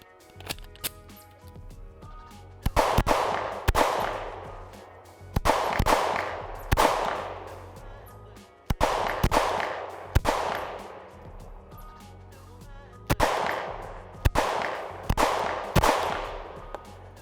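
A Shadow Systems CR920X pistol fires outdoors in five quick strings of sharp, loud reports, each group of several shots followed by a ringing decay and a short pause.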